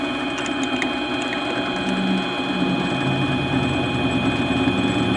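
Outboard lathe spider being bored out on a lathe from 3/8 with cutting fluid, a steady loud mechanical whir and grind with faint ticking that runs without a break, nobody speaking.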